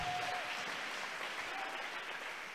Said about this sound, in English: Give God a mighty hand clap